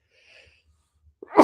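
A single person's sneeze bursts out loudly and close at the very end, after a stretch of near silence with a few faint, indistinct sounds.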